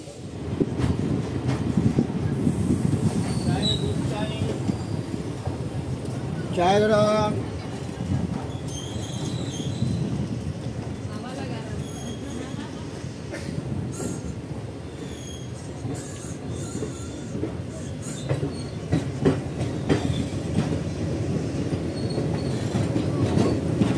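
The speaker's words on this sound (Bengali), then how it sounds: "ট্রেন আমাদের গুয়াহাটি থেকে যেদিক থেকে এসেছিলো আবার ওদিকেই এগোতে শুরু করলো।" The Kanchanjungha Express train rumbles steadily along the rails with clattering wheels and occasional metallic squeals, loud and continuous throughout.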